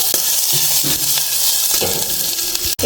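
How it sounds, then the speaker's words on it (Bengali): Vegetables for sambar fry lightly in a hot pan, giving a steady, close, bright sizzle with a few soft stirring knocks and a sharp clack near the end. "সবজিগুলো দিয়ে হালকা ভেজে নেবো"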